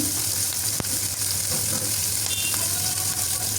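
Steady, loud sizzling of onions and chillies frying in hot oil, continuous throughout with a few faint clinks from stirring.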